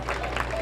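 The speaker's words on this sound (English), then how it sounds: "Hear the applause for the Ben Davis player." A brief burst of crowd applause for a player at a youth sports game, clapping spread across many hands at moderate volume.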